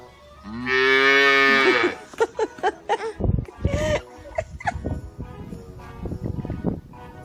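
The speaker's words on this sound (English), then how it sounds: "What is the cow saying?" A cow gives one long, loud, close moo at the start, followed by people talking and laughing nearby with other faint animal noises.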